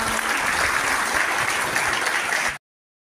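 Students at a school gathering applaud loudly and steadily for a couple of seconds, with the dense clapping ending abruptly.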